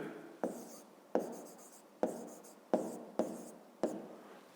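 A pen moves across a notebook page during a fifth-grade maths exercise, making quiet, close scratchy strokes in about six short bursts, each starting with a tap and trailing off softly.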